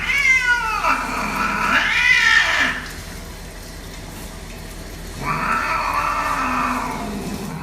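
A cat meows and yowls in protest while being bathed, with two long drawn-out wailing cries, the first sustained for about two seconds, a short lull, then another extended caterwaul, loud and close with no talking.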